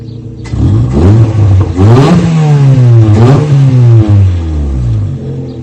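Toyota Corolla engine with a newly fitted exhaust revving loudly and close by, climbing through several rising and falling rev sweeps with a clear engine tone and no talking.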